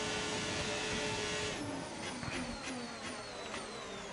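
Formula 1 cars race in the F1 25 video game, with a sustained high engine whine and several quick Doppler passes and gear shifts sweeping by in the second half, heard without talking.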